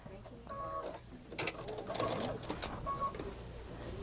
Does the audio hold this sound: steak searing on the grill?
no